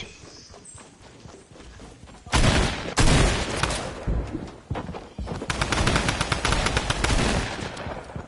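Gunfire in a multiplayer shooter, heard as loud bursts of rapid shots and clattering impacts that start partway through and keep up in dense volleys, with a quieter stretch of movement before them and no talk.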